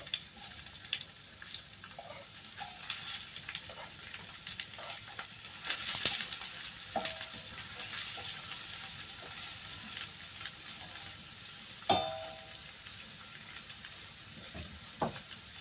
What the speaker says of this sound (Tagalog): Lagay na natin ang garlic, onions,